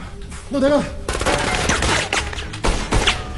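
Gunfire in an action film shootout, bursts of rapid shots mixed with a shouting voice and dramatic soundtrack, loud and dense.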